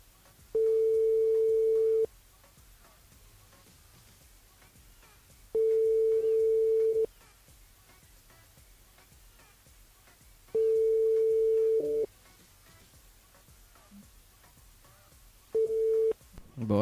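A French radio call-in line rings unanswered, long tone bursts of about two seconds repeating every five seconds or so, loud and steady with nothing else over them.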